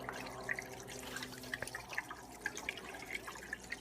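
Greywater trickling through a branched drain pipe system laid on a gentle incline in a yard, a soft continuous flow with scattered drips and gurgles, close and fairly quiet.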